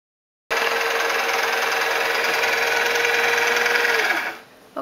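A domestic sewing machine runs steadily at constant speed with the foot pedal held down, a loud continuous whirring drone that stops abruptly near the end, with no talking.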